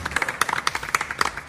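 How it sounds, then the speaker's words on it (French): Audience applause for the festival team at the 25th Gnaoua festival, a room of people clapping in a quick, uneven patter with sharp individual claps standing out, fairly close and loud. "Alors s'il vous plaît, on les applaudit."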